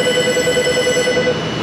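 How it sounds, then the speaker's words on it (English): A telephone rings loudly and continuously with a steady warbling trill in an auto repair shop, close by and with no talking. "the phone's ringing."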